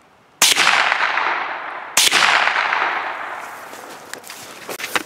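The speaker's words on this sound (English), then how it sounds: "So, Jack took another two shots here." Two loud gunshots fired into a stack of laptops ring out about a second and a half apart, each followed by a long decaying echo, with faint clicks and rustling afterward.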